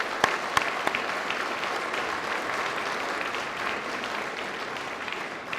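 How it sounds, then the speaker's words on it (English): Applause for two players after an All-Ireland softball handball ladies singles final, a few sharp claps opening into a steady, moderate patter from a modest crowd that fades slightly toward the end. "Just ask for another massive round of applause for both these two great players."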